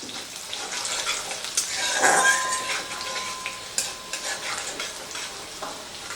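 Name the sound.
chopped garlic frying in pan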